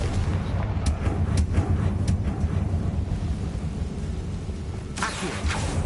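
A Confringo spell explodes in Hogwarts Legacy as a heavy, rumbling blast, with a deep sustained roar and a few sharper cracks over it.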